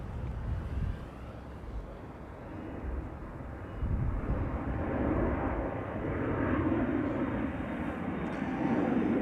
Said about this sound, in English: That's the Embraer to Newcastle.